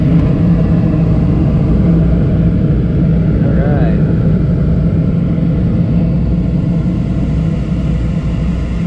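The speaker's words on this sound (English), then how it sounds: "Combustion blower. Is it good?" A Trane gas furnace combustion blower runs with a loud, steady whooshing rumble close by, with no pauses over the whole stretch.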